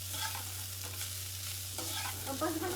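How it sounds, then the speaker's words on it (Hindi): Poha is tossed with the tempering in a hot pan, giving a soft, continuous sizzle with gentle stirring scrapes over a low hum. The sound is quiet and close and carries no talk. "अब इसके बाद हम पोहे को मिक्स करेंगे"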